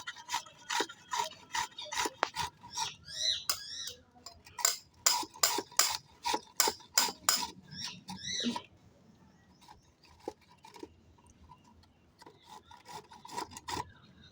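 A mango being grated by hand produces repeated short rasping scrapes in quick rhythmic bursts, close and fairly loud, with brief pauses between strokes and quieter scraping toward the end.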